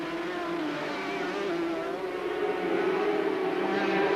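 Racing sidecar engines scream past at Mallory Park during a 1988 British sidecar race, a loud, continuous high-revving roar that swells slightly as the machines hold power into a bend.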